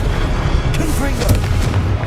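Confringo, a fiery blasting spell in the Hogwarts Legacy video game, goes off as a loud booming burst, thick and low, layered over a dense rumble of game effects while a voice calls out during the cast.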